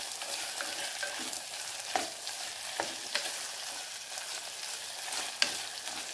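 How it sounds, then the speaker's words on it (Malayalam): Onions sauté in a pan with a quiet, even sizzle, broken by soft periodic scrapes of stirring spaced a second or so apart. No speech is heard. "ഇടയ്ക്കിടയ്ക്കൊന്ന് ഇളക്കി വാട്ടി കൊടുക്കുക."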